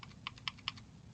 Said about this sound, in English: And then I can use my arrow keys.